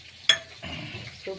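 Fish fry cooking in a pan: a steady close sizzle with a sharp stirring clatter early on and a brief scrape near the end, no voices.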